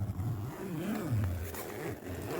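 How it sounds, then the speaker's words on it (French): A zipper drawn open in a few slow pulls, close up, scraping and rasping over a low background rumble. "les bruits de fermeture éclair comme ça"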